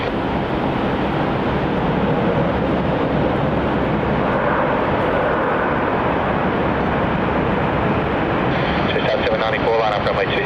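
An airliner powers up for takeoff on runway 27 at Melbourne Airport, a broad, steady engine roar filling the whole stretch at constant loudness, heard from the spotting area with no talk over it.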